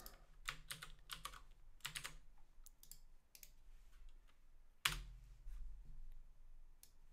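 Quiet bursts of typing on a computer keyboard while a script is edited, with clustered clicks, pauses, and one sharper keystroke near the end.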